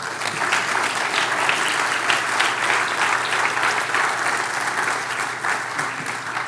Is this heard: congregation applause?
yes